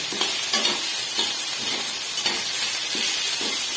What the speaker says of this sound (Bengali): আলুটা সিদ্ধ হয়ে গিয়েছে, এবার আমি এটা লাল করে একটু নেব